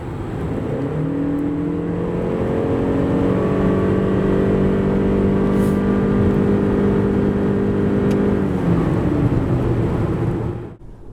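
A 2026 Lexus RX 450h+ F-Sport plug-in hybrid accelerates hard from 90 to 140 km/h, its engine note rising steadily in pitch and holding loud and smooth for about ten seconds before easing off, with no talk.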